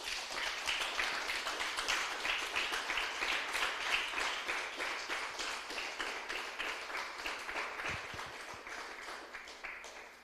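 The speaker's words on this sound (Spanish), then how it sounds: "Den un aplauso fuerte al Señor, aleluya." A church congregation claps together in a steady rhythmic beat, a moderately faint, even pattern of many hands that fades slightly toward the end.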